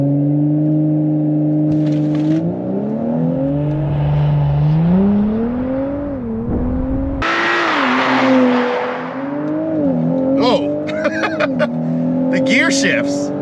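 A stock Audi B9 S4 accelerates hard under full boost, its engine note climbing steadily, then dropping sharply at a gear shift around midway before rising again, with a slight bucking surge; a voice speaks briefly over the loud, close engine.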